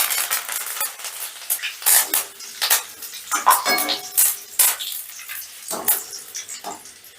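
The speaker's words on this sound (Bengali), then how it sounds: "এবারে ওই তেলেই আমি কারি পাতা ভেজে নিচ্ছি।" Three sticks of curry leaves fry in hot oil left from frying nuts, giving loud crackling, spluttering bursts mixed with the clatter of a utensil against the pan, with no voices.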